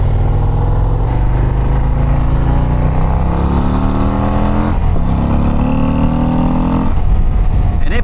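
A 2024 Harley-Davidson CVO ST motorcycle engine roars loud and close as it pulls through climbing revs, with brief dips like gear changes before each rise, under a steady wash of wind.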